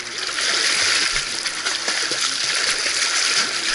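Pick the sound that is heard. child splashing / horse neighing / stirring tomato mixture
child splashing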